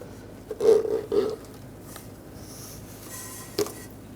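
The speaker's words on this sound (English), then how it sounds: "I'm just going to put a little lubricant there to help our boot slide on" A lubricated rubber bellow boot is worked onto the steering rack of a 2013-2022 Buick Encore, giving a few soft, close squishing and scraping rubs in quick succession, then a brief faint scrape, with no talking.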